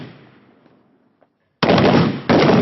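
Indian Air Force Garud commandos fire weapons during a reflex fire drill for military operations in urban terrain. A faint fading rumble drops to near silence, then two loud, close bursts of rapid automatic gunfire follow with a short gap between them.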